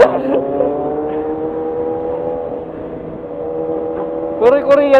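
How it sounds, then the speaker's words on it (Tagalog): A motorized tricycle drones past on a street, its steady engine hum rising at the end, heard close alongside louder motorcycle engine noise with people talking over it. "Uy, tricycle! Tricycle!"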